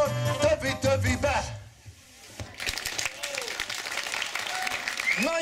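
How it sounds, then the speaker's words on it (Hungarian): Audience applause at a live performance, a burst of clapping that dips briefly then swells again and continues to the end. "Még egy picit tapsoljatok"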